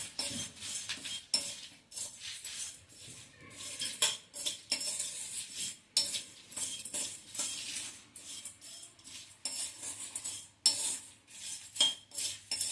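Spices dry-roasting in a pan without oil are stirred with a metal utensil, giving quiet, irregular scrapes and clinks spread across the clip, fairly soft and close with no talk.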